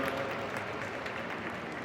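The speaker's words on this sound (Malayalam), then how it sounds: "എല്ലാവരും നല്ലൊരു കൈയടി വരാം ആദ്യം തന്നെ, എല്ലാവരും ചേർന്ന്." An audience clapping together at a horror film event, a steady, even wash of applause heard at moderate distance with no voices over it.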